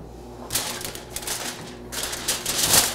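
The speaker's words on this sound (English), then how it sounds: "I'm going to take the tin foil." Tin foil is handled for wrapping fish in a kitchen, giving bursts of bright crinkling and rustling in two close, loud spells with a brief lull between them.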